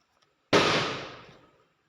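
A single firecracker burst from the background of a Free Fire emote, the video game, bangs out sharply once and then decays over about a second, loud and alone.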